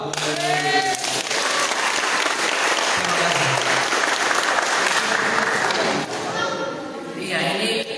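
A crowd at a student leadership training session for a law faculty in Merauke breaks into sustained, loud applause that fills the room, with a voice speaking over it at the start and end.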